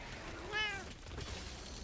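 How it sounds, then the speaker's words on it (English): A house cat gives a single short, rising meow in the background, faint and brief against low room noise while a game streamer is on mic. "That was my cat. Oh my god, that actually went through the mic."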